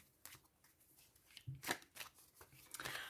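Tarot cards being shuffled for a reading make soft riffling and sliding bursts, quiet and close, with a few sharper flicks partway through and no speech over them.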